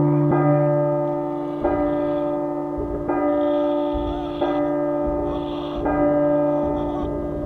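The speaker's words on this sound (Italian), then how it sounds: "aspetto che finiscano di suonare queste campane di merda" Church bells tolling at midnight in the horror video game P.T., heavy resonant strikes repeating roughly every second and a half with long ringing overtones, loud and alone.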